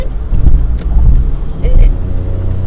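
Cars and trucks rush past on a busy road, a near, loud rumble of traffic swelling and fading as vehicles go by, with faint tire hiss and a person talking over it.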